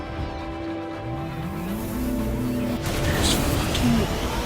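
Vehicle engine, a car or motorcycle, in a Metroid Prime 4 trailer, its pitch sweeping upward as it revs over a steady musical drone, with a squeal and whoosh near the end.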